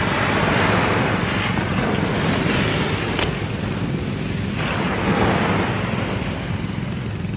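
Ocean waves on a beach in Zambales in the morning, a loud continuous roar of surf with gentle swells, mixed with buffeting wind noise on the microphone.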